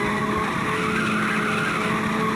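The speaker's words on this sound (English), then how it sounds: "The tires have a robust, realistic screeching sound to them when you're hitting those turns and doing your drifting" Sustained tire screech from drifting through turns in the PSP racing game Ridge Racer, a dense continuous squeal over engine noise lasting throughout, loud and close with no pauses.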